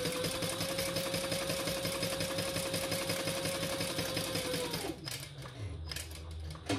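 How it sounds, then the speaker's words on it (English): A sewing machine stitches around a box seam on a small tote, a continuous close, rhythmic whir that slows and stops near the end, followed by faint handling sounds. "we're just going to sew around that box"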